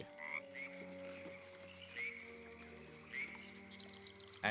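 A frog in a video game croaks in three or four spaced, raspy calls over a quiet humming backdrop, with no talking.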